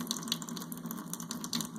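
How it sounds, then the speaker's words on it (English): Alkaline water flowing from an Enagic water ionizer spout, a steady close stream splashing into a container, continuous and fairly quiet, with no talk. "this is alkaline water coming out of here, and this is acidic water coming out of here"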